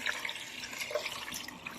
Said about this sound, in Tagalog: Ito pong curry rice ay lalagyan po natin tubig.